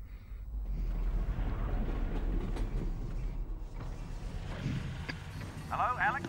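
Train in the Half-Life: Alyx game rolling along with a steady low rumble and faint clanks and creaks, while people talk over it throughout.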